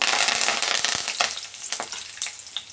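Cumin, green chillies and curry leaves fry in hot oil with a loud, close crackling sizzle broken by scraping stirs.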